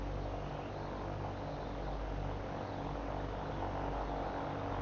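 A light aircraft's propeller engine drones steadily on a stable approach in gusty wind at Astoria, a constant low hum with rushing wind noise heard from inside the cockpit, no speech.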